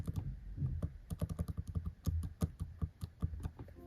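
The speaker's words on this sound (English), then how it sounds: "As for the keyboard, it feels and sounds great." Rapid, crisp keystrokes clatter on an M1 MacBook Air keyboard in a steady typing rhythm, close up and with no voices.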